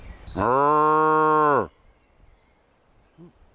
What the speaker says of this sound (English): I think these might be Highland cattle.